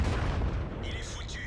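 Artillery shells striking a tank in a World of Tanks–style battle, a pair of loud booming impacts with heavy low rumble and crackling high tail over steady game noise.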